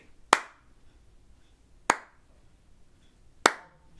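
Three sharp, evenly spaced hand claps ring out alone in a quiet room during flute duet practice, each crisp and close with a short decay, roughly a second and a half apart.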